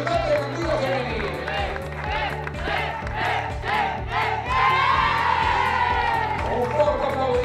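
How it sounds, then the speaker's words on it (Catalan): Crowd cheering and chanting at a women's football trophy ceremony, the first Ciutat de Gandia women's tournament, loud and sustained with shouts and clapping mixed through it over an amplified announcer's voice. "Un fort aplaudiment per a les nostres jugadores."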